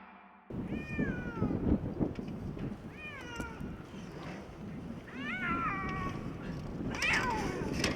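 A frightened cat stranded on a roof during a rescue gives four distinct meows spread through the clip, each one loud and wavering, over rustling and muffled background noise.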